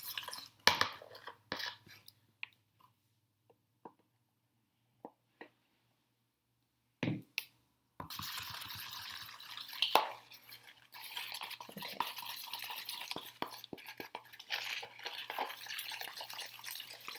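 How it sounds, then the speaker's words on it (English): Clay mask being mixed with a plastic fork, with wet, sticky scraping and squelching strokes close by, sparse and quiet at first, then turning into a continuous run of dense stirring. "just mixing in a plastic fork"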